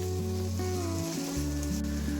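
Turmeric and coriander powder sizzle steadily in a hot pan as they are stirred for Goan-style potato bhaji, a constant close hiss under background music.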